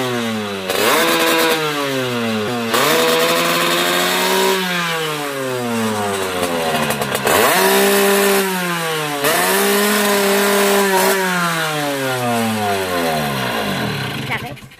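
An 80cc two-stroke moped engine fitted with a BRK kit revs hard against its rev limiter, with loud, close, repeated rising and falling surges that bounce at the top and carry on throughout.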